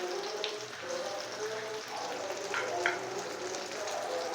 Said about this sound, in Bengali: এইবারে আমি উচ্ছেগুলোকে ভেজে নেব।